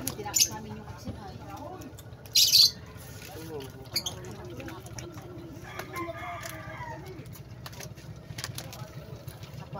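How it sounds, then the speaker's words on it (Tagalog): At night, birds chatter and squawk in a noisy mix, with a few sharp, loud calls standing out over people talking and background noise. "Maingay yung ibon mga kabayan"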